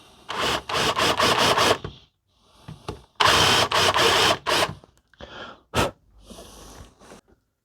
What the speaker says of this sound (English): And I got another drill here with a countersunk.